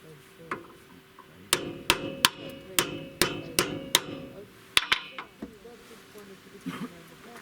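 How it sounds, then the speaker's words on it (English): A hammer strikes a hard quandong seed repeatedly, about a dozen sharp, evenly spaced blows, close by, followed by a few lighter taps. "The seeds are pretty tough and you need a hammer and some place to hold them in"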